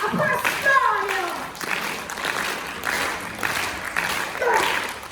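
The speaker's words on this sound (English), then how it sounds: "Clap your hands together, people. Clap them." A group of people claps hands during a theatre performance, with scattered, uneven claps under raised voices and children's speech.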